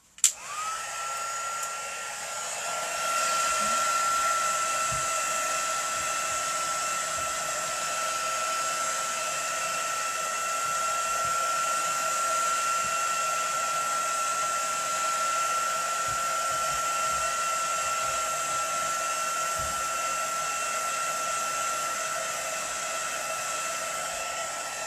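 A hair dryer blows steadily on a watercolour resist card with dandelion wishes, a constant close whirring roar with a clear whine that holds evenly for the whole stretch after a brief click at the start.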